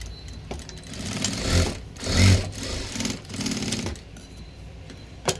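Sewing machine stitching tucks into a size-40 four-tuck blouse, running in a few short bursts with whirring and pauses between, close and moderately loud.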